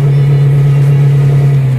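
Toyota All New Rush automatic engine held at a 4000 RPM fuel cut, a loud, steady droning hum that stays close and unbroken throughout, with no voices.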